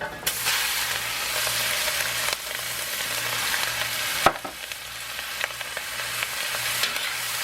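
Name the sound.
shrimp stir-frying in wok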